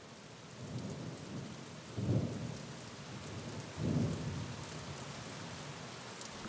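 Steady rain hisses throughout as a sound effect in a French audio drama, with two deep rumbles of thunder rolling in at moderate loudness and no voices.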